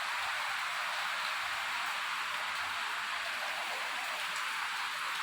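Heavy rain pours steadily onto a house, a dense, continuous hiss of falling water with no pauses, close and fairly loud throughout, with no voices.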